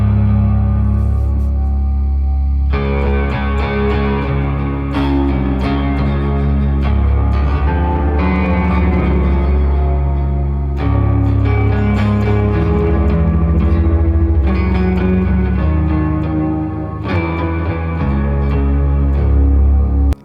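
A PRS Custom 24 electric guitar through a Quad Cortex POG clean preset with a Poly Octaver, dry signal plus sub octave, plays sustained clean chords and notes with thick low octave doubling and ambient echo, steady and close throughout.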